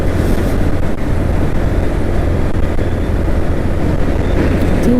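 Suzuki GS motorcycle cruising along an empty road, a steady low engine drone mixed with heavy wind rush against the microphone, continuous and close without speech.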